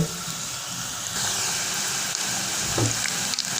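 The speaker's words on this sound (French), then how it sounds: "Dans une huile bien chaude, nous allons tremper nos boulettes." Steady sizzling of cassava balls dropped into hot oil, a dense, even crackle that holds throughout with a few small pops and stir noises, close and moderately loud with no talking.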